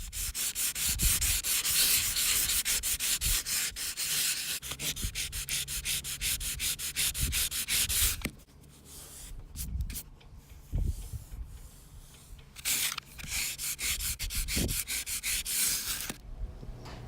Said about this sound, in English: So let's get to sanding.